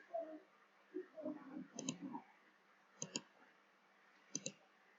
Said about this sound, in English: first click on to this shift and then log button